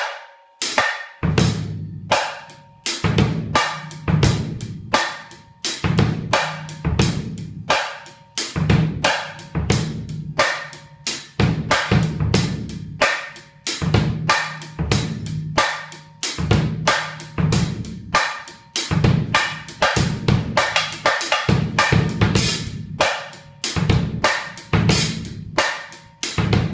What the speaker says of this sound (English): I will integrate the snare drum into a hip-hop groove which sounds like that.